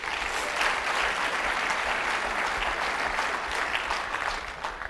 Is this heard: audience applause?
yes